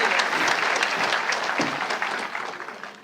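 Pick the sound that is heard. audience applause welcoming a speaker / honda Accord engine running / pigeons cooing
audience applause welcoming a speaker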